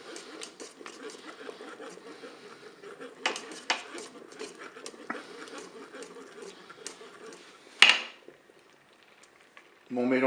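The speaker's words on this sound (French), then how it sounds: "Donc là, je continue de mélanger." A thickening mixture being stirred in a Cookeo pot, with a utensil scraping and clinking against the metal bowl in irregular strokes, then a louder clatter and a brief pause before more noise starts.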